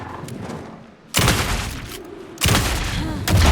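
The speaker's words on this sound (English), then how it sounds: "Anderson, pin him down with gunfire for me to get the light on." Bursts of gunfire from the video game Alan Wake 2 crash in loud, dense volleys, with two or three heavy booming barrages arriving in quick succession over a dull rumbling background.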